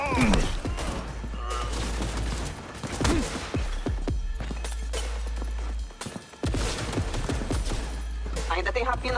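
Gunfire in a shootout in Cyberpunk 2077 played on PlayStation 5: loud, dense bursts of shots and crashing impacts over a steady low rumble, with a short lull near the end.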